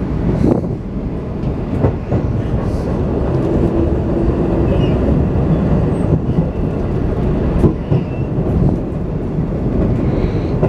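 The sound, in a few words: train pulling into station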